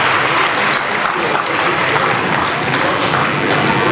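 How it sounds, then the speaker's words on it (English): Steady applause from an audience at a school annual day event, honoring a teacher, dense and continuous clapping filling the whole stretch without pause. "A big round of applause for her."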